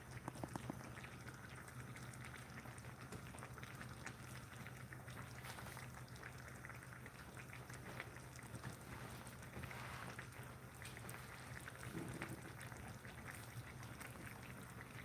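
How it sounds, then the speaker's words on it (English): Vegetables simmering in a cooking pot give a steady, soft bubbling and hissing, close and continuous, with no voices over it. "See how we're getting some nice bubbling around?"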